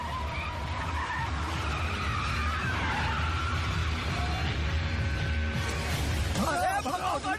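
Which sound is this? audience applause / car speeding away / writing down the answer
car speeding away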